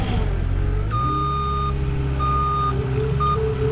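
A gravel truck backfilling garage footers, sounding three bursts of loud, high reversing beeps over a steady, rumbling diesel idle.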